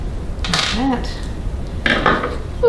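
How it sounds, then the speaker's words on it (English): Metal lid lifted off an old Elna Special sewing machine: a few close, bright metallic clanks and rattles, a ringing scrape early on and another clatter near the end, with quiet room sound between. "it's always exciting to lift the lid off and see what's underneath"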